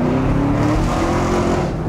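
A Chevrolet Camaro engine drones steadily from inside the car, a loud, continuous low rumble with a faint rising tone while driving.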